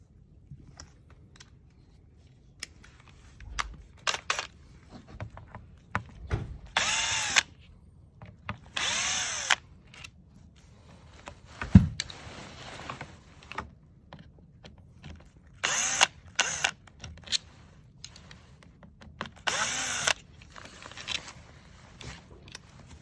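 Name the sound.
undoing bolts with 3mm and 4mm Allen keys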